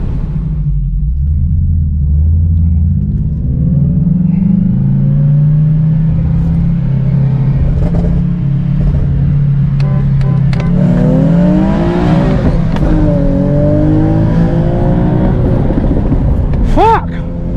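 A tuned E85 Nissan G37 accelerates hard, heard from close by with a loud deep rumble. Engine pitch climbs, drops at missed shifts, then climbs again, with a brief sharp rev spike near the end.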